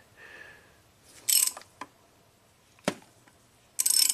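A puller works on a part of a damaged Volvo, producing a few sharp metallic clicks and ratcheting bursts spaced by quiet gaps, close and fairly loud.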